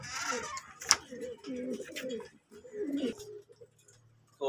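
Breeding pigeons in a loft coo in a few low, rolling bursts separated by short pauses, fairly close, with a sharp click partway through and a brief noise at the end.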